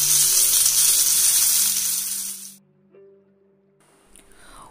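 Pomfret fish fries in a pan with a loud, bright hiss and sizzle that cuts off abruptly partway through, followed by near silence and a few faint clicks.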